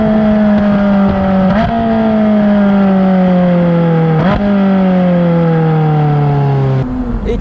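Ferrari 458 Spider engine accelerating hard through the gears, loud and close, with rising engine tone and sharp gear changes about every two to three seconds.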